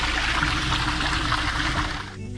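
Motorhome waste tanks draining at a dump station in New Zealand, a steady loud gush of rushing liquid that holds for about two seconds before easing into a thinner trickle.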